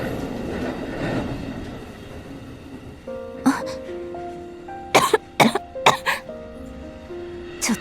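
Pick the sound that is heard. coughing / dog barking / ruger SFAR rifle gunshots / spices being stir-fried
coughing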